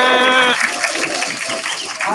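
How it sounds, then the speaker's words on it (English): An audience applauds after a president's address: a short held voice gives way to a dense, lively burst of clapping filling the room. "I got a thunderous applause"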